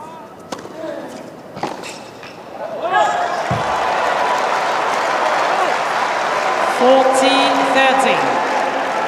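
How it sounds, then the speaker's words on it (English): A noisy crowd at a late-night US Open tennis match keeps up a steady roar of applause and chatter for several seconds. Brief knocks come before it, and the noise builds and holds at a loud level. "Noisy crowd."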